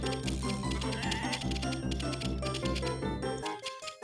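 Sheep in a farming video game bleat repeatedly over loud, busy game music, the short cries recurring steadily until the music drops out near the end.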